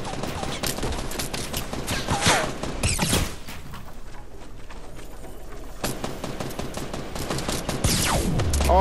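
Machine gun fire rattles almost nonstop in a Fortnite battle royale match, with loud rapid volleys that dip briefly before resuming at full intensity.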